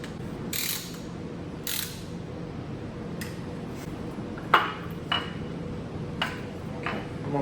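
A ratcheting torque wrench tightens engine case bolts on a Volkswagen-type 2332cc engine build, giving a series of close, crisp ratchet clicks and metallic ticks spaced a second or so apart over a low steady room hum.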